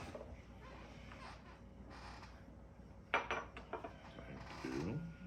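Spoons and dishes handled at a dinner table with goat neck stew and rice, a few close clinks and clatters in a brief burst after a quieter stretch, faint voices around.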